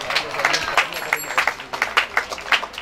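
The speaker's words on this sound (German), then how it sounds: "Herzlichen Applaus für Thomas Hase" Audience applause at a potato peeling championship in Ottersleben, a crowd clapping in irregular bursts with background chatter mixed in, moderately close.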